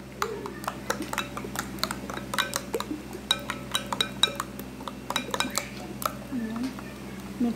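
Batter for a condensed milk cake being mixed in a bowl in a home kitchen, with rapid clinks and scrapes of a utensil against the bowl in an irregular run, close and moderately loud, while people talk in the background.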